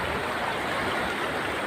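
Strong current of the Isap River in Bongabong, Mindoro rushes over large rocks, a steady close-up wash of water with no pauses.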